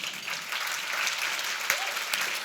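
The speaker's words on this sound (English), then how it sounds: "Round of applause for that" A room of attendees at a women in business breakfast claps steadily, a dense, even round of applause that holds at a consistent level throughout with no talking over it.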